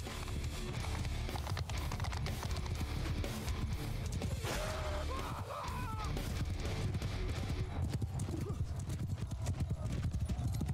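Horse hooves clip-clop loudly and continuously through a Mount and Blade Bannerlord battle, with an occasional whinny over a dense wash of combat noise.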